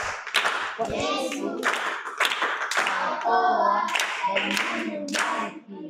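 A group claps for a child named Diamond during a Swahili talk on raising children, with brisk uneven handclaps throughout and voices calling out over the applause.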